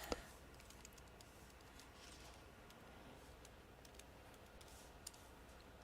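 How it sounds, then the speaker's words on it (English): Continuous computer-keyboard typing, soft rapid clicks at a steady patter under low room noise, with a sharper click at the start and another near the end. "Oh man, stop typing."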